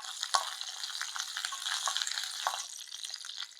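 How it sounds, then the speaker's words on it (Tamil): Black urad dal and curry leaves fry in hot oil for a tempering, giving a bright, steady sizzle with frequent popping crackles throughout, close and fairly loud. "ஸோ கருப்பு உளுந்து பொரிஞ்ச உடனே கருவேப்பிலை போட்டுருங்க."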